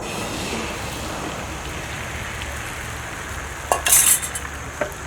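Butter sizzles in a hot pan, a steady crackling hiss with a few sharper spits and pops near the end.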